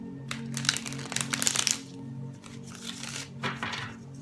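A deck of tarot cards is shuffled by hand in several quick papery riffling bursts, fairly close and soft, over a faint background hum.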